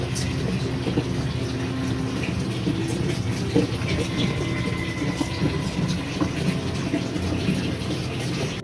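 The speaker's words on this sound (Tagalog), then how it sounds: "nagsasali na ako ng tubig sa ating aquarium. Ang ginagamit ko is, rekta na ako sa gripo." Tap water runs straight from a faucet into a home aquarium during a water change, a steady soft gushing and splashing that stays fairly faint and continuous throughout with no talking.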